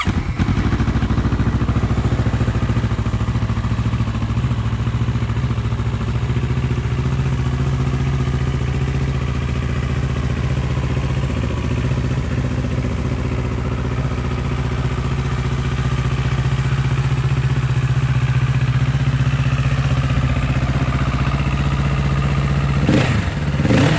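A used 2017 Kawasaki Z650 streetfighter motorcycle with the baffle in, its engine running with a steady loud idle and mild revving, close by and alone, ending with a brief clack.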